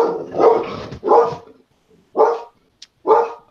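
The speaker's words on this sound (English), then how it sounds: "What's she barking at?" A dog barks at deer in a front yard, giving four loud, close barks in two pairs with short pauses between them and a brief yip near the end, with no talking.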